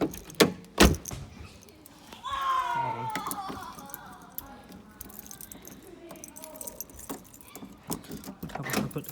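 Car keys jangle beside a Honda Civic 1.6, with a few sharp metallic clinks near the start followed by softer rattling and handling noises, close to the microphone while a person talks.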